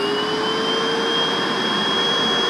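A BISSELL SPOTbot handsfree stain cleaner's vacuum motor runs steadily during a suction test, giving a loud, constant whine with a high pitched tone over a broad rushing airflow hiss.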